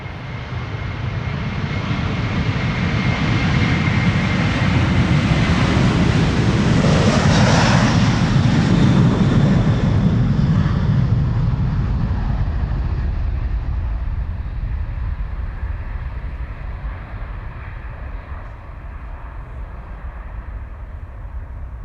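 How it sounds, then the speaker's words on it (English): A Delta Airlines Airbus A330-300 jet departs Amsterdam Schiphol Airport, its engine roar swelling steadily to a loud peak near the middle and then slowly fading as it climbs away, with no other sounds over it. "This is Delta Airlines Flight 135 and A330-300 to Detroit"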